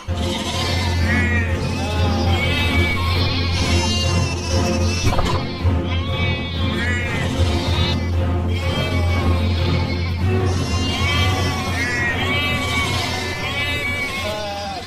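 Goats bleat over and over in wavering, nasal cries, layered and continuous, with a steady low hum running beneath for the whole stretch.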